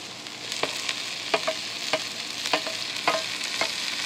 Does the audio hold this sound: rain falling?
no